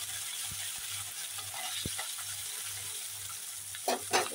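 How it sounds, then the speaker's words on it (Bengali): Small river fish such as boroli and mourala frying in a pan, a steady soft crackling sizzle with faint low clicks, and brief louder spatters near the end. "মাছগুলো ভাজা হতে হতে আমি কয়েকটা দিয়ে দিলাম এখানে শুকনো লঙ্কা"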